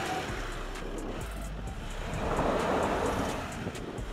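A Volkswagen Amarok pickup with traction control and automatic four-wheel drive crawls over a dug-up diagonal off-road obstacle, its engine a muffled rumble with a brief rising surge midway, fairly faint.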